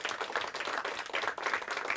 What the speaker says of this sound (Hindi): एक बार ज़ोरदार तालियां चारों टीमों के लिए